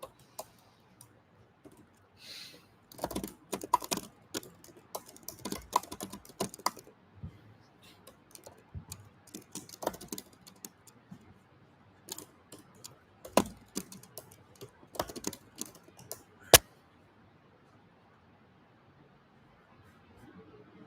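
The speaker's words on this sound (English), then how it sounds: "I'm typing quick" Rapid computer keyboard typing during a competitive programming session, with bursts of quick clicking keystrokes in uneven runs, close and fairly faint, then trailing off into near silence.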